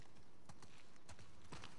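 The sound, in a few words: horse hooves clip-clopping in The Last of Us Part 2 video game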